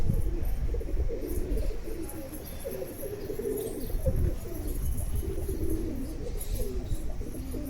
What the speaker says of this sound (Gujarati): તો અહીંયા મસ્ત એવા મજાના સફેદ ને કાળા ને કબૂતર છે એને આપણે અગાસી ઉપર ચણ નાખવા માટે આવ્યા છીએ